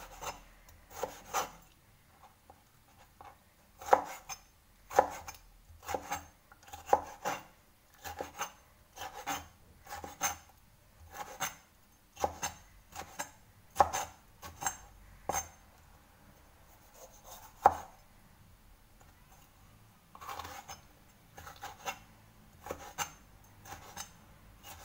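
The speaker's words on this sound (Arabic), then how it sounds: "وتنقيهم مزيان وتنقطعهم على هاد الشكل" A knife cuts vegetables, including peppers, for a meatless vegetable gratin, giving a steady series of short, dry rasping strokes, close and fairly regular with brief pauses.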